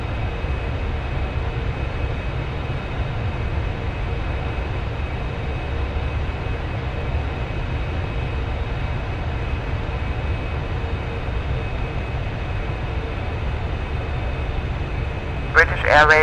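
Steady, loud engine roar from a British Airways Boeing 747-400 rolling down Heathrow runway 27R, filling the whole clip as a dense low rumble with a brief sharper burst near the end.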